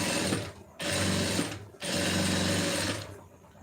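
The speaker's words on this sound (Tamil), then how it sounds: "இப்போ வந்து இந்த ஒட்டு தையல் வந்து நான் போடுறேன் பாருங்கள்." A sewing machine stitches a lined blouse in two close, loud bursts of rapid mechanical whirring and clattering, separated by brief pauses.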